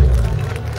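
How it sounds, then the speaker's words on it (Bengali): A live concert crowd breaks into loud applause and cheering for the sound engineer, a dense wash of clapping filling the whole moment. "আমার গ্রেট সাউন্ড ইঞ্জিনিয়ার গৌরাঙ্গর জন্য একটা জোরে হাততালি চাইব"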